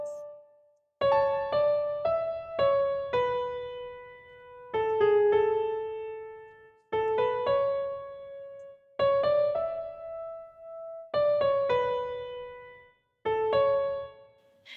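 A solo piano plays a gentle melody of chords and single notes in separate phrases, each ending in a short silence, clear and unaccompanied.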